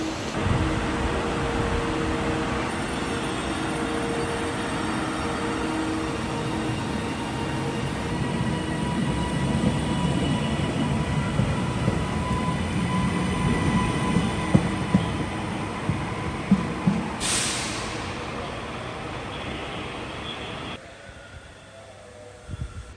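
A Nova 2 train rumbles steadily along the rails from inside a carriage, a continuous low roar with a brief rising whoosh near the end before it quiets.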